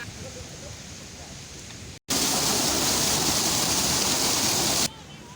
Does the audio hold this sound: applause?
no